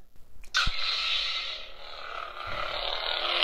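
An Artsabers Starkiller Neopixel lightsaber ignites with a short burst, then settles into a steady, fairly loud electric hum that holds for several seconds with no talking.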